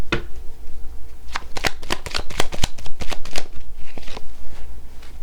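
A deck of cards being shuffled close up for a card reading: a rapid burst of crisp riffling and snapping, then a few scattered softer flicks as the cards settle.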